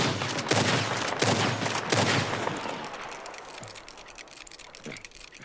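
Video game gunfire from Red Dead Redemption 2: three loud, sharp shots in quick succession, each followed by a ringing tail, then two softer, distant pops that trail off.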